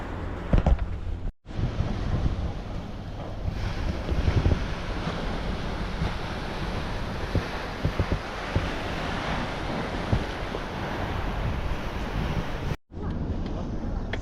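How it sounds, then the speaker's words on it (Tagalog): Ocean waves wash against the shore in a steady, broad rush of surf mixed with heavy wind buffeting on the microphone, continuous and fairly loud with a few brief dropouts. "sarap ng tunog ng alon, pagaspas ng alon"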